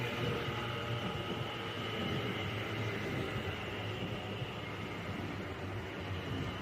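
A train running through Aston station on the Cross City Line, giving a steady rumble with a low hum that stays level and fairly close throughout, with no talking.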